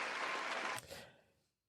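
An audience at a podcast taping gives brief applause that stays dense for under a second, then thins out and fades quickly to silence.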